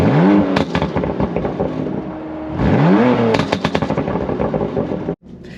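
A BMW M4 with a titanium exhaust revs hard twice. Each rise is followed by a loud, rattling crackle on the overrun, and the sound cuts off abruptly near the end.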